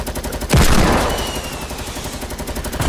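Fortnite gunfire: a sharp, loud shot bursts out and rings off into a fading tail, with a rapid, regular pulsing of more fire running through the whole stretch.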